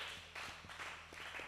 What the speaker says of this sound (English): A round of applause for our moderators.